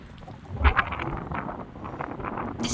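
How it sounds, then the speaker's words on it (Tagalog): Strong wind gusting on a cold, foggy day outside a house in Amman, Jordan, buffeting the microphone as a rough, rumbling roar that swells and eases over a few seconds, with no talk. "Very cold and very windy."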